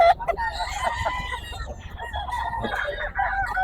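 Roosters crowing and clucking at a busy Grotto market where fighting cocks are sold, several birds calling close by in overlapping bursts over a steady crowd murmur, with people talking in the background.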